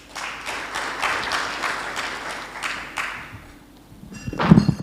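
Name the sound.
audience applause at a public consultation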